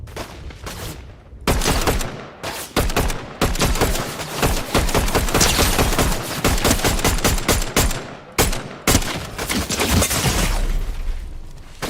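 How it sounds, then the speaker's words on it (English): Rapid video game gunfire rattles in dense automatic bursts, loud and close, with brief gaps between volleys and no talk over it. "He's trying to shoot at me."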